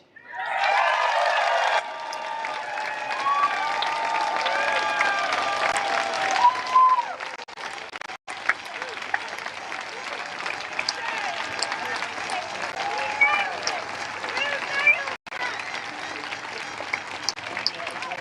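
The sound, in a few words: crowd clapping at Extinction Rebellion event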